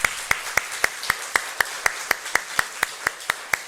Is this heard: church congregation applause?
yes